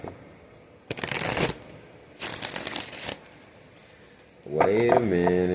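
Tarot cards are shuffled in two quick, crisp riffling bursts separated by a short pause, close up. A person then starts talking at the end.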